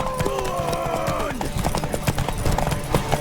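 Horse hooves clip-clop in The Witcher 3, a steady rhythmic trot of sharp hoof strikes heard close, with in-game voices talking over the first part.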